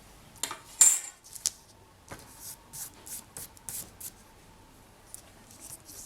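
Scissors cut paper edges for polymer clay pendant work with a series of quiet, close snips and rustles, irregular in rhythm and separated by short quiet gaps.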